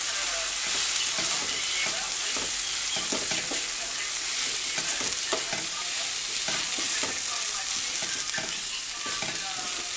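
Peppers and onions fry with flour in a pan, stirred steadily for a pork chop sauce, giving a constant close sizzle with repeated scraping strokes and no talking.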